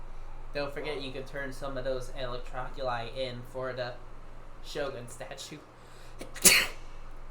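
A single sharp, loud sneeze bursts out near the end, right after a stretch of indoor talking, with a faint air-conditioning hum underneath.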